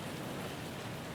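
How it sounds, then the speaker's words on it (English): Steady rain hiss fills an indoor room in Kingdom Come: Deliverance 2, a continuous soft wash of falling drops with no other sounds on top. "It's apparently raining in this room right now."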